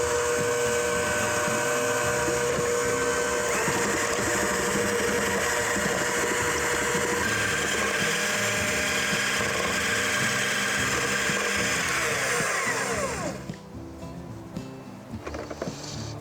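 An electric mixer runs steadily on medium speed, beating tres leches cake batter in a bowl. It makes a continuous whirring drone that stops near the end.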